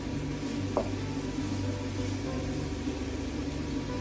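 Chopped vegetables for risotto soften in melted butter and olive oil, giving a steady, close sizzle with a faint low hum underneath and one small utensil tick; no one speaks.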